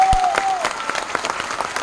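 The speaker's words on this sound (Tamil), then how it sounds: "அவனுக்கு ஒரு பலத்த கரகோஷம் கொடுங்க" A crowd at a Tamil film event bursts into loud applause, dense clapping filling the room throughout with a brief tone fading early on.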